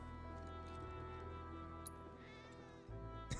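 Cats meowing in Cat Town in the Final Fantasy 7 Remake game, a few faint meows over steady game music and ambience.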